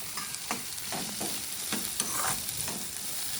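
Curry leaves sizzling in hot oil in a pan, a continuous crackling fry with occasional stirring scrapes, close and steady.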